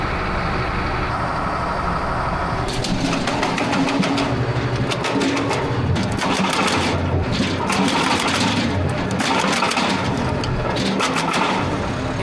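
An RP-200 PRO log splitter runs steadily while splitting firewood, with a loud continuous engine drone and rapid mechanical rattling that swells and fades in bursts.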